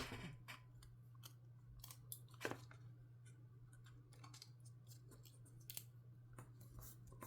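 Quiet, scattered snips and clicks of large scissors cutting, irregularly spaced over a steady low electrical hum.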